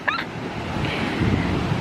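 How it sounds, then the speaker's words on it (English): Strong ocean surf rushes broadly and steadily on a Costa Rica beach, loud and close with heavy wind buffeting, after a brief high bird-like chirp at the very start. "No, the waves are so strong."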